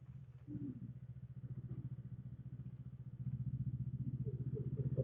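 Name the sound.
Honda CMX 500 Rebel V-twin engine and exhaust while riding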